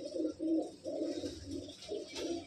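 A pair of Punjabi Malwai Tatira pigeons, a red cock and a black hen, coo in a steady rhythmic series of low, throaty calls, close and fairly clear with brief gaps between phrases.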